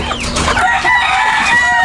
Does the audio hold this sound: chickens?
yes